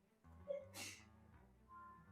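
A single short sneeze bursts out, faint and somewhat distant, over a low background hum in an indoor room.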